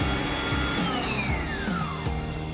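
An electric mixer whisks cupcake batter with a loud, steady motor whir and shifting pitch, close and continuous.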